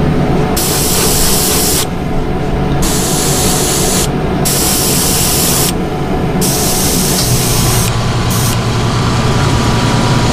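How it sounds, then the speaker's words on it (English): An air compressor kicks on while fishing lures are airbrushed, with sharp hissing spray bursts over a steady motor drone that shifts lower near the end. "I am gonna keep rolling as that air compressor kicks on"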